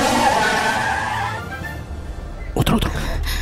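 A car speeds up close behind and skids abruptly to a halt, tires scraping in a sharp burst near the end after a steady rumble of engine and road noise, with dramatic voices and background sound beneath.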